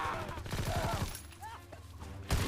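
Gunfire in a World War II Call of Duty online match, with a burst of rapid shots early on, scattered reports, and a loud blast near the end, mixed with game sounds and some voice.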